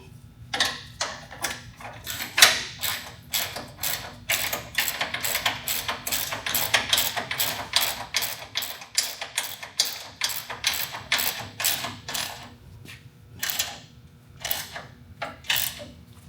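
A box end wrench works on an old Ford OBS truck chassis during restoration, giving a long run of rapid metallic ratcheting clicks, close and steady, with brief pauses and no talk.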